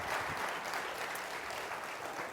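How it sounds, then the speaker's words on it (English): An audience claps steadily, a dense wash of many hands applauding without pause. "Let's give them a good hand clap again."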